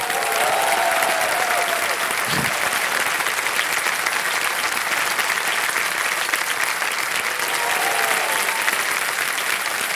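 A studio audience on the Indian quiz show KBC India greets a contestant with steady, full applause that holds at an even level for about ten seconds.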